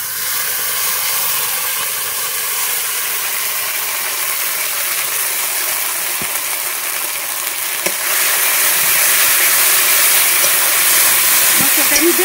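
Masala paste of red chilli powder mixed with water frying in a pan for a mutton curry, a loud, steady sizzle and hiss running throughout, growing slightly louder and brighter toward the end.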